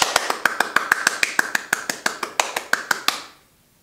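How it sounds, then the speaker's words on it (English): Simulated applause from students tapping iPads in Gimkit plays over classroom speakers as rapid, evenly spaced crisp snaps, about sixteen in a row, then it stops. "the students can tap their iPads to simulate clapping as many times as possible"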